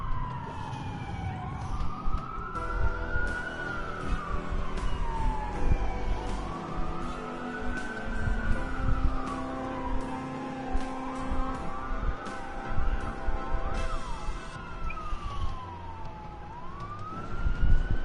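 Several police sirens wail in the Watch Dogs video game during a city blackout, overlapping rising and falling tones that sweep steadily over a background of traffic and engine noise, fairly loud and continuous with no talk.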